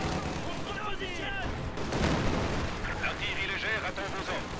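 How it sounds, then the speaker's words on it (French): Light artillery booms and gunfire in Company of Heroes 2 during a Southern Front battle in heavy rain, rolling out as repeated distant blasts beneath a steady wash of noise, with game voice lines spoken over the mix. "Ennemi attaqué par l'artillerie légère."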